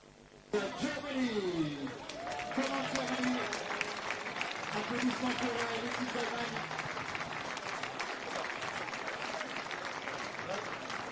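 Sustained crowd applause at a rugby sevens tournament starts abruptly and continues steadily throughout, with voices calling out and cheering over the clapping.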